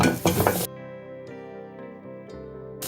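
Onion dropped into hot coconut oil with curry leaves for a Kerala vegetable stew, a short burst of crackling sizzle and clatter that quickly settles into a faint background hum.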